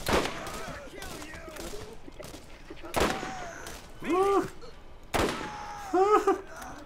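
Gunfire in the shooter game Borderlands: several sharp shots ring out over ongoing game sound, with someone talking over the action throughout.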